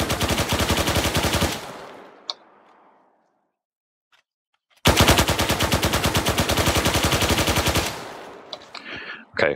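Two long bursts of rapid automatic gunfire in the game Arma 3, fired to shoot a wheel off a Hunter vehicle, loud and close, separated by a few seconds of near silence with a single sharp crack between them.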